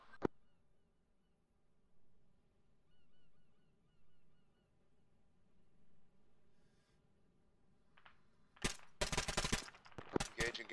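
Gunfire in the military shooter ARMA 3 follows a long quiet stretch with one early crack: a sudden cluster of loud, sharp shots erupts near the end, fired in quick bursts close by.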